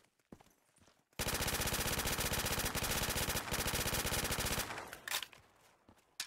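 A P90 fires a long, dense automatic burst in a Black Ops 3 Zombies custom map. The shots are loud and close, run for about three seconds and then trail off into scattered clatter.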